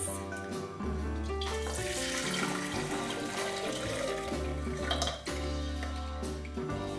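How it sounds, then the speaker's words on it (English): Russian tea with cloves and cinnamon sticks is poured through a small strainer, giving a steady splashing, trickling stream that continues almost the whole time with brief shifts in flow. "So let's strain these."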